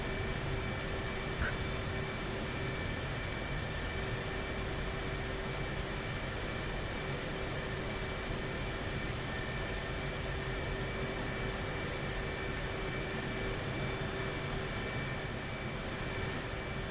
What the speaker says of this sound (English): taxiing active